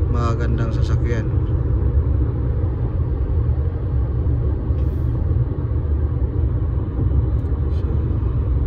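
Steady low rumble of road traffic, mostly Toyota Land Cruisers, heard from inside a moving vehicle, continuous engine and tyre drone throughout, with a brief burst of higher-pitched noise at the very start.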